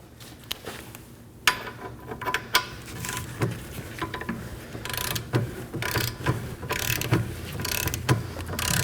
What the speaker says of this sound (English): we're gonna torque it to 115 foot-pounds